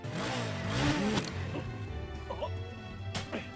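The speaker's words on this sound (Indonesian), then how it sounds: "Terlihat mobil yang dikejar oleh Sakazaki berhenti di GC Tower" Car engine in a King of Fighters video game, revving with rising and falling pitch sweeps early on, then a steady running drone with a few clattering knocks, loud and close under game sound effects.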